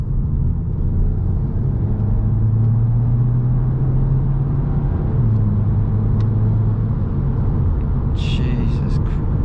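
Steady low engine drone and road rumble inside a moving Volkswagen Scirocco, a smooth hoover-like hum that holds throughout with a slight pitch shift midway and a brief faint clatter near the end.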